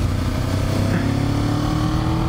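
A Kawasaki Ninja 7 Hybrid motorcycle pulls hard under acceleration, its engine droning steadily and up close with a rising tone, heard briefly without pauses.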